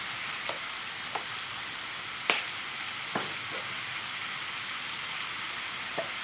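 Beef with holy basil stir-fried in oil with sugar and fish sauce gives a steady, quiet hiss of frying, with a few soft clicks of a spatula against the pan scattered through it.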